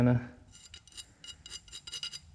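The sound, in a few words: filing piston ring edges to remove burrs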